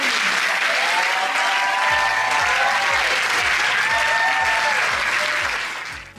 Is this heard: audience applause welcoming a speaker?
yes